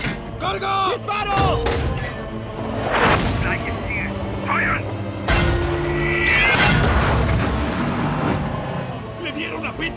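A Sherman tank's cannon fires in a World War II battle against a Tiger tank, letting out several heavy booms and sharp cracks. Frantic shouting and the clatter of the tank interior run between the shots.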